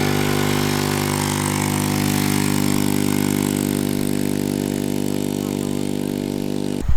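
A cheap pocket bike fitted with a racing engine runs loud and steady at close range, its buzzing harmonic drone holding high revs throughout before cutting off abruptly at the end.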